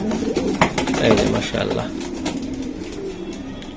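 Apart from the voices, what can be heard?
racing pigeons in a loft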